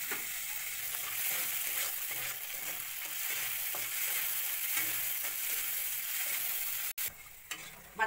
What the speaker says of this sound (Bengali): বাদাম চানা ভাজা হয়ে গেছে